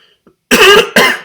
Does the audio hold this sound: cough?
yes